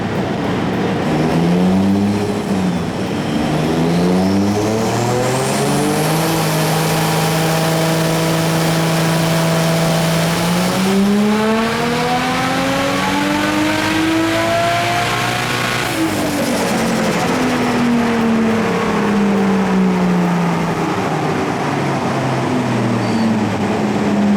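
Drift car engine on a remap tune run, loud and close, repeatedly revving up and dropping back in long sweeping pitch rises and falls, with turbo whine and no voices.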